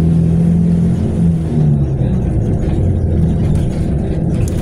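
Traffic noise on Maharlika Highway near the Lucena Grand Central Terminal, a continuous low rumble of passing engines from buses, jeeps and cars, heavy and constant.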